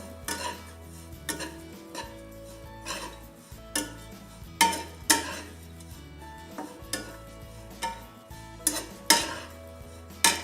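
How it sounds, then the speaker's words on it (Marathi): Coconut roasting in a pan over a low flame, a spatula clinking and scraping against the metal pan in irregular strokes, close and clear over a faint background hum. "खोबरं मंदाच्यावरच भाजायचं खोबरं जास्त लाल नाही होऊन द्यायचं"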